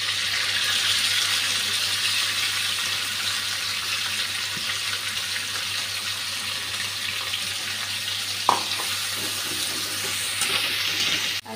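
Bay leaves and onion fry in a pan with a steady, broad hiss of sizzling oil that runs unbroken, plus a single sharp clink near the end.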